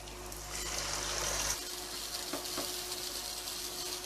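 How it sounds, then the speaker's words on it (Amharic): Onions fry in hot oil for an Ethiopian kuanta wot, a steady dense sizzle throughout with a brief louder hiss near the start, close and without talking. "አሁን በደንብ ጠብሼዋለሁ በዘይቱ።"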